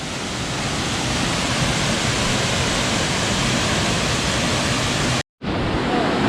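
Blue Hole Falls roars as a steady, dense rush of falling water, loud and close and unbroken, before cutting out abruptly near the end.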